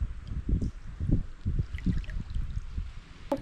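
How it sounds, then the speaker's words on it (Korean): Ocean waves roll in along the seaside at Yangyang, Korea, with low, close surges breaking and washing back in a loose rhythm of soft whooshes and gurgles, with no talk. "파도 소리 너무 좋다."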